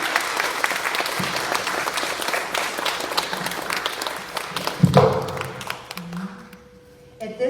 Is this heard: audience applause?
yes